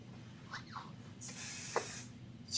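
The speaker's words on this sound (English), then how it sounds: "Spray a little bit of 505." Short bursts of 505 temporary spray adhesive hiss from an aerosol can while embroidery is being prepared, with a longer spray followed by a brief final puff over a low steady background hum.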